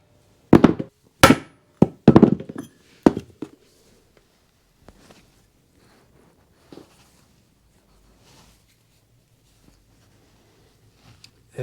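Hammer blows drive a wheel bearing into a Yamaha Tenere 700 wheel hub using a fork seal driver: about six sharp, loud metallic knocks in the first three seconds, then near-quiet with a few faint taps and clinks.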